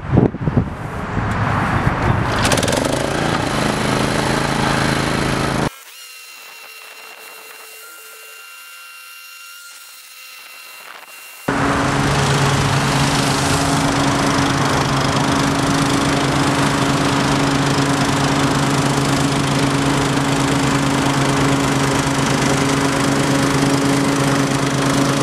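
An Exmark Commercial 30-inch walk-behind lawn mower runs loud and steady, its engine drone carrying on with a brief quieter lull partway through before the full roar returns to the end.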